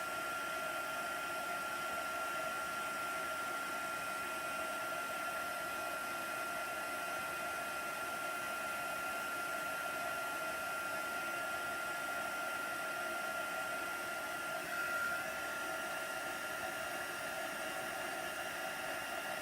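A hair dryer blowing steadily on chalk paste at a craft table, a continuous even whooshing hum with a faint whine, unbroken throughout and no voices.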